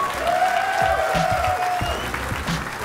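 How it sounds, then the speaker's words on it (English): Light applause from a small crowd at a live Clash Royale tournament in Helsinki, with a faint whistle-like tone drifting over the clapping. "Guys, one more time, a round of applause."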